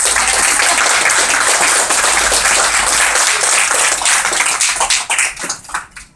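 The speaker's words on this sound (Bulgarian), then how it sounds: "искам да я ръкопляскате всичките" Audience applause fills a gallery at the opening of an art exhibition, dense and loud clapping sustained for several seconds before thinning out and fading near the end.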